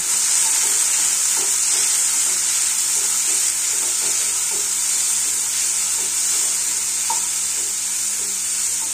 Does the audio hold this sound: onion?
yes